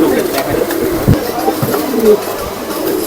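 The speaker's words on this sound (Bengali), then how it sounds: "কবুতরগুলো খুবই সুন্দর আর আকর্ষণীয় কবুতর" Pigeons coo in low, soft murmurs at a busy pigeon market in Khulna, a steady crowd of birds heard close by with light background bustle.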